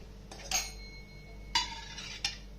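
A mixer grinder jar is set down and handled in a kitchen, giving three or four light clinks and knocks spread over a couple of seconds against a low steady hum, quiet and with no voices.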